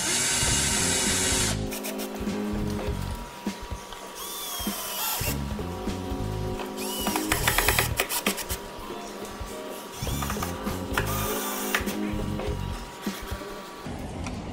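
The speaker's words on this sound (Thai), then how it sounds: "หลังจากนั้นยิงน็อตให้ครบทุกตัวค่ะ" A power tool drives bolts home while a bubble tea kiosk is assembled, sounding as repeated loud whirring bursts with short gaps and ratcheting between them, close by and with no one talking.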